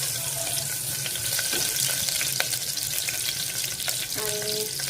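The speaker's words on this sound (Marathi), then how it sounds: "त्याच्यात कांदा टाकले, मस्त असं भाजून घेते" Onions frying in a pan for a rice dish cooked with shahi biryani masala, a steady loud sizzle throughout with faint clinks and water-like hiss, no talking.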